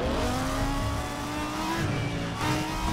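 A car engine in the racing game Need for Speed World revs and drones steadily, a continuous loud engine tone that dips briefly, then climbs again.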